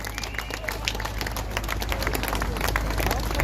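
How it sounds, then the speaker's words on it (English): A rally crowd applauds a campaigner, steady dense clapping with scattered cheers spread across a large space, moderately loud and continuous with a low room hum beneath. "Can we give this lady a round of applause for all the work that she did?"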